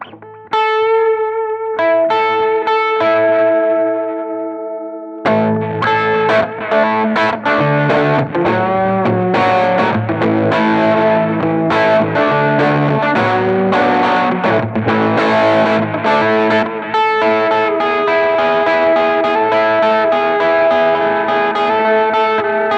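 Electric guitar chords and picked notes washed in a wobbling modulation effect that gives a warbling, tape-like pitch drift, continuous and loud with added grit.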